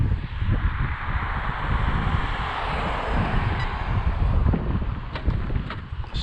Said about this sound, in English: Windy too today.